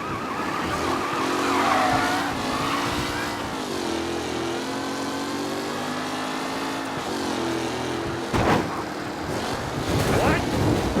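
Period race cars in Mafia Definitive Edition revving and skidding through a tight racing pack, engines whining and shifting pitch with sharp tyre screeches, mixed with talking.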